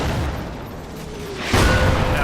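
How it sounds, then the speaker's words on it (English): Mortar fire in the WWII strategy game Combat Mission: Battle for Normandy, a low rumbling backdrop broken by a single sharp, heavy boom near the end. "Meanwhile, there's the mortars."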